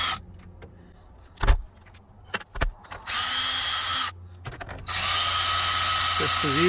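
A power drill backs screws out of a GM car radio, giving two sustained, loud whirring bursts, with brief clicks and handling noises before them and a few spoken words.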